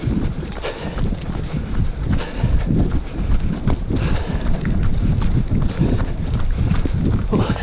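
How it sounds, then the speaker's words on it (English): Gusty wind buffets the microphone during a hilly parkrun at Windy Nook, a steady low roar with surging gusts and rustling, close and loud throughout, with no talking. "You can probably hear the wind."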